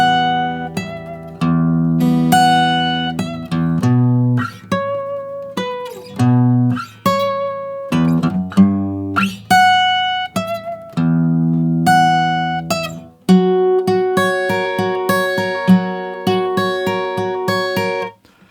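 Guitar in standard tuning playing the verse of a song, clean plucked notes and short ringing phrases with brief gaps, close and alone without voices.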